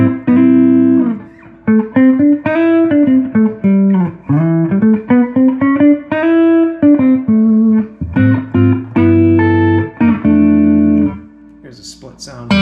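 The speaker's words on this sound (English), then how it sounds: "Here's that guitar neck pickup clean." Clean electric guitar on the neck pickup through a Lewis Electric Columbia reverb amp, voiced like a blackface Princeton: a clear, melodic single-note line with sustained ringing notes and some chords, close and alone.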